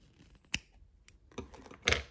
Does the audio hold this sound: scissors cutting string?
yes